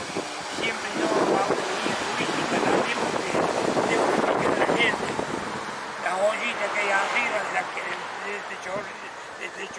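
Lágrima del Indio waterfall in Córdoba, a rushing spray of falling water that is loud at first and then eases, with a person speaking over it and wind buffeting the microphone.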